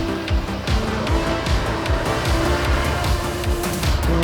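A motorcycle rides along a forest road in Sultan Kudarat, Philippines: a loud, close engine drone with quick rhythmic revving pulses throughout.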